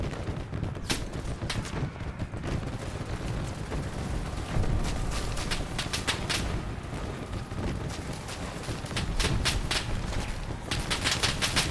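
Machine gun fire in the WWI shooter Over The Top rattles in dense, continuous bursts, with sharp reports scattered through a steady roar of distant battlefield noise and no talk.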